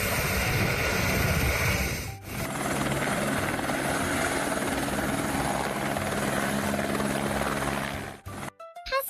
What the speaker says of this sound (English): Hi, I'm a heavy lift helicopter.